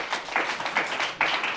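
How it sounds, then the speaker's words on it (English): A studio audience at a television show claps briefly to welcome a guest, a thin patter of a few hands in short uneven bursts. "So with a round of applause, please help me welcome Mrs. Anefi."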